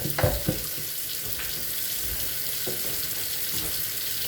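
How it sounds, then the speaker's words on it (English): Tap water runs steadily over a hazy car headlight being cleared, a close, continuous hiss and splash with a few soft knocks near the start. "Run a little water on there."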